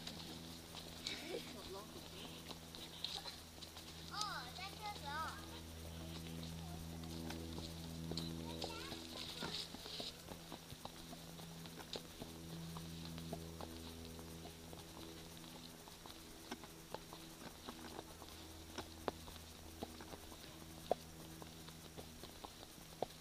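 Horse hooves clip-clopping at a walk during a February trail ride at Windy Hill, a steady rhythm of moderate hoofbeats over background ambience while people talk nearby.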